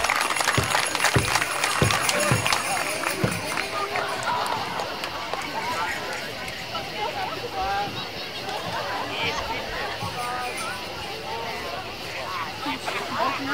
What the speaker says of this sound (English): Let's give them a big round of applause here.